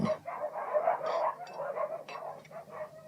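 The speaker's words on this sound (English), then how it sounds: "Those are Morgan's dogs you can hear barking." Several dogs bark in a busy, overlapping cluster, mid-distance and fairly steady throughout, with yips mixed in.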